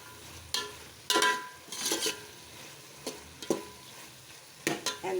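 Vegetables for a veg pulao tossed and fried in a pan, giving a few bursts of stirring and sizzling with scraping clatter, close and moderately loud, without talk.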